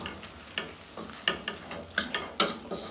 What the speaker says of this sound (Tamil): ஒரு மிக்ஸ் கொடுங்க